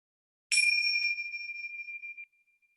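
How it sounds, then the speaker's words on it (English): A single mindfulness bell struck once, a clear bright ring that sustains and slowly decays over about two seconds in an otherwise silent room. "First ringing of the bell."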